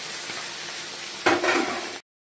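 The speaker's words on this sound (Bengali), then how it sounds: "তেলটা গরম হয়ে গেছে এবার মাছের মাথাগুলো আমি ছেড়ে দিচ্ছি সেই মাথাটাকে আমি ভালো করে উল্টো পাল্টা ভেজে নেবো" Fish heads fry in hot oil, a close, loud hiss that swells with a turning clatter partway through, then cuts off abruptly.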